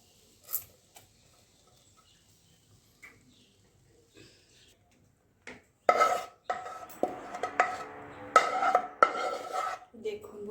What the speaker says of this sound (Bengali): এবার একটা পাত্রের মধ্যে আমি ঢেলে নিচ্ছি